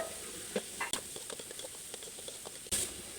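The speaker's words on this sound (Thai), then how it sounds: "ผัดพริกกระเทียมให้หอมก่อนทุกคน ใส่เห็ดฟางใส่เลยนะ" Straw mushrooms stir-fried in a little oil with chili and garlic, a steady close sizzle broken by scraping stirs and a few sharp spatula clacks against the pan.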